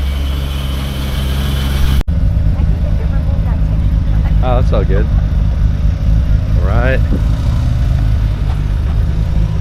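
JDM cars at the TX2K 2025 event, engines rumbling and idling loudly and close by while unloading for a booth setup, with a brief cut partway and people talking over the running motors.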